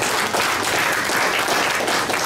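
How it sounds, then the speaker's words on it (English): Dense, loud applause from a conference audience fills the whole stretch, a steady wash of many hands clapping together with no voices rising above it. "Please give yourselves a round of applause."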